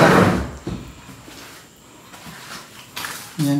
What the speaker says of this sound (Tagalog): sarado natin yung mga pinto